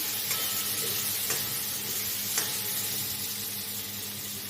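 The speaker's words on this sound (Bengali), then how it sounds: "আলুটা দিয়ে আমি এটা ভালোভাবে ভেজে নেব" Potatoes frying with spices in a pan for sago khichdi, a steady close sizzle with occasional soft stirring clicks, no voices.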